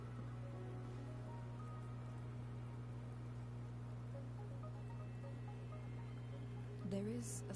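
Steady, even rain hiss in the video game Wuthering Waves fills the scene at a constant level, with a faint brief chirp near the end.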